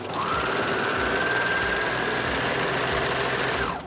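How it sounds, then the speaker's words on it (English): A sewing machine stitching along the top edge of a pleated fabric mask runs loud and close in one continuous, rapid mechanical whir for nearly four seconds, with a faint steady whine above the motor. "We're going to sew the top."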